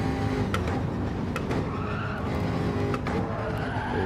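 Race car in Gran Turismo 7 braking hard into a chicane, tires skidding and squealing over a steady engine roar, with several sharp squeal bursts across a few seconds, loud and close, no talk.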